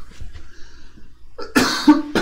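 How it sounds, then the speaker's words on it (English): A person coughs during a Bible study reading session, a quiet breathy lead-in followed by a loud, harsh burst and a second short cough close to the microphone. "Excuse my cough."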